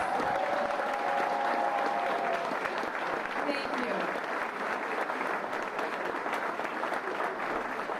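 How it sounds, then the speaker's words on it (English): Standing audience applauding students at the dedication ceremony of a new elementary school, a dense, steady round of clapping filling the whole stretch, with a voice briefly speaking over it. "give them a rousing round of applause"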